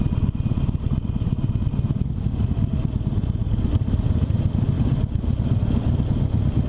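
Harley-Davidson Forty-Eight motorcycle engine braking, a loud uneven low rumble with popping pulses and wind buffeting throughout, no one talking.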